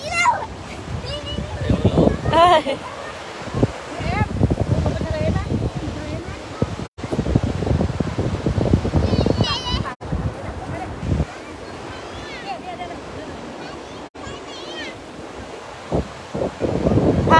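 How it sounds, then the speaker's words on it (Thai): Sea waves wash steadily onto a beach under strong gusting wind buffeting the microphone, a continuous loud roar throughout, with a voice and other voices talking now and then. "เดินทะเลเนาะเดินลงทะเล"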